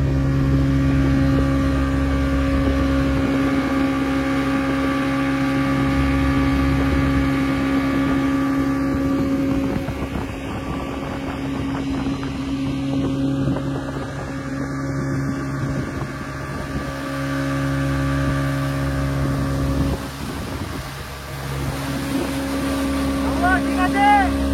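A speedboat on Chandil Dam roars steadily with a loud droning engine hum, while wind rushes against the microphone and voices talk intermittently over the noise.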